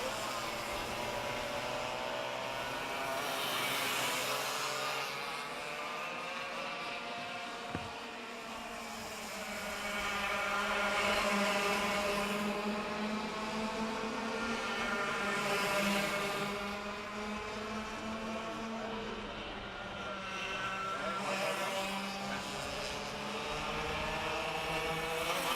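Maxterino racing karts at a SARMC round-three race run in a close pack, their engines droning loudly and steadily with rising and falling revs as they pass, continuous throughout.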